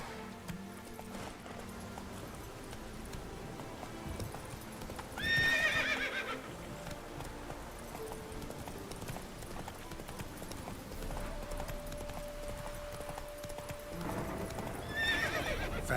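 Horse in The Witcher 3 video game with steady clip-clop hooves through the stretch and two loud neighs, one early and one near the end, over a soft ambient game background.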